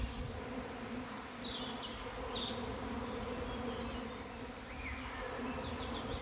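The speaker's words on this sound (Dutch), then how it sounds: "het is echt één lang gezoem en echt duizenden bijen in de lucht" Thousands of swarming bees fill the air outdoors in a food forest, a dense continuous buzz that never lets up, with occasional bird chirps above it and no talk.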